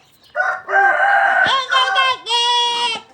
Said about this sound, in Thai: เอ๊ะเนี่ยไก่ทำอะไรเอกเอกเอก